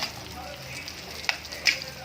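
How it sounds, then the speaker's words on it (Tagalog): Pinakbet with moringa pods bubbles in a pot while it is stirred, giving a steady faint sizzle with a few sharper clinks of the spoon. No one talks. "Ayun, kumukulo na. Hahaluin lang natin yan."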